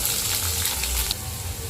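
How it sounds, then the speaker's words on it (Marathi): Cumin seeds sizzle in hot oil, a steady close frying hiss that runs for a couple of seconds with faint crackles and no talking. "तेलात मी जिरं टाकून घेते।"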